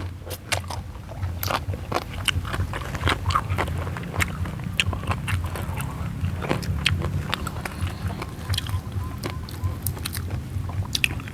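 Someone bites and chews crispy pork crackling, a string of sharp crunchy snaps over steady chewing, very close to the microphone and fairly quiet, with no talking.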